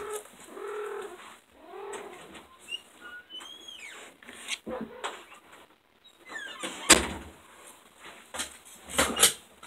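A cat meows several times indoors, the calls rising and falling at moderate distance, with squeaks and door-like clatter scattered through the quiet background.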